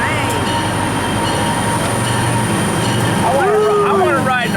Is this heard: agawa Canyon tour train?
yes